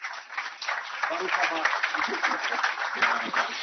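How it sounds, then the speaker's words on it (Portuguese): Audience applause welcoming a guest speaker at a lecture event, steady and fairly close for the whole stretch, with a murmur of voices mixed in beneath the clapping. "Mais uma salva de palmas"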